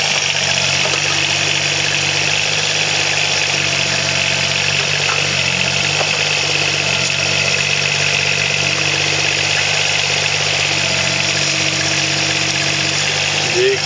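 A John Deere 15 machine's engine idles steadily at close range, a constant droning hum with slight vibration that holds an even level throughout, with no revving.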